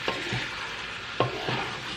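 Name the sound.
folding ackee with pepper in a pan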